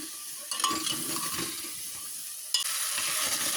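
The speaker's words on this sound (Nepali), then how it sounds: "एकैछिन यसलाई फ्राई गरेर अनि यसमा पानी राख्ने" Soup ingredients sizzle and fry in a pan while being stirred, a soft hiss broken by light scraping strokes and a couple of sharper clinks against the pan.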